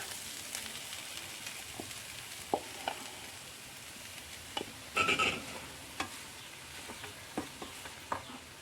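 Chicken frying in a pan for samosa filling makes a soft, low sizzle, broken by scattered clicks and scrapes from a spatula stirring it, with one brief louder clatter midway.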